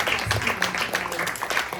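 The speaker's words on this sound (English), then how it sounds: "can we have a round of applause for our incredible guests?" Audience at a behavioral health policy panel gives a short burst of applause for the guests, dense mid-level clapping with a voice faintly underneath.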